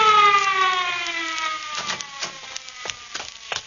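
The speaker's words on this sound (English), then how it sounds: "That's the ambulance." An ambulance siren sound effect in a live radio drama wails with a falling, drawn-out tone, then fades as scattered knocks and clatter take over.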